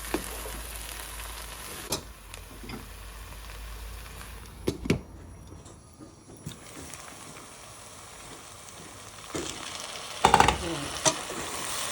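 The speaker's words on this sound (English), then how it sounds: "So in between I'm just going to give it a stir, just mix it." Potatoes and cauliflower for a Punjabi-style aloo gobi fry in a pan, a soft, low sizzle broken by occasional scraping knocks as the mixture is stirred, with no talking.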